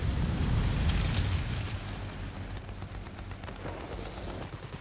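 Aircraft gunfire and bomb blasts in World of Warplanes, a low rumbling boom at first giving way to a steady rattle of guns under a droning engine, moderately loud and continuous.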